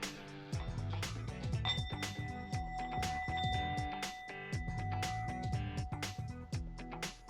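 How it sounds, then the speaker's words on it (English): A small Buddha bell is struck once, its clear ringing tone sustaining for several seconds over a busy, rhythmic background of music. "Anytime I want to ring a bell, I reach over here"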